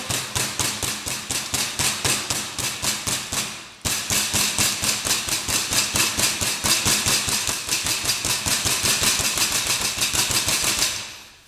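A meat mallet pounds beef loin under plastic wrap in a kitchen cooking class, with rapid, evenly spaced heavy thuds in a long steady run, a brief pause, then more rhythmic blows.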